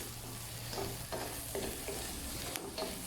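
Salted meat fries in a pan under a steady sizzle, with a few soft scrapes and clinks of stirring through the hiss and no talking.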